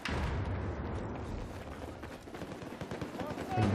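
Rapid gunfire in Battlefield 4, from an M16A4 rifle and shotguns: dense, loud bursts of shots crackling close by, with a shouting voice over the din.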